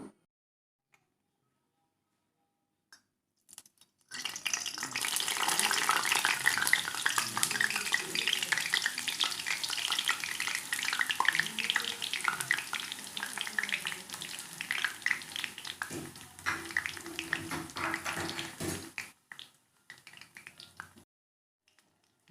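Curry leaves fry in hot oil for an Indian snack mixture, a loud, dense crackling sizzle that starts abruptly, holds steady for about fifteen seconds, then cuts off.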